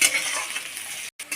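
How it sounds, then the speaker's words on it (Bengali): Onion sizzles and is stirred in a pan until browned, a steady bright hiss with light scraping that cuts out briefly near the end before resuming. "পেঁয়াজটা লাল করে ভাজা হয়ে গেছে"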